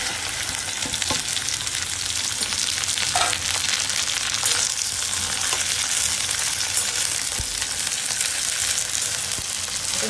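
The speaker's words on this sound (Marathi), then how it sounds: "आता हे तेल घालते मी आपलं तेल तापलेलं आहे आपण आता भेंडी फ्राय करून घेऊया" Okra frying in heated oil, a steady dense sizzle and crackle filling the whole stretch with a few soft stirring knocks, close and fairly loud, no talking.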